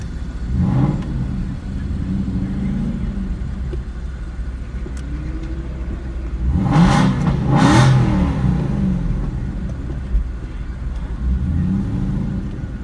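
An Aston Martin V8 Vantage engine revs up and accelerates on an airstrip, building to a loud roar in the middle before settling back to a steady rumble.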